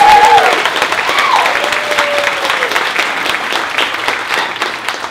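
Loud, dense audience applause at a film world premiere in Cairns fills the space, with a short whistle or whoop near the start, then steady clapping that tapers slightly toward the end.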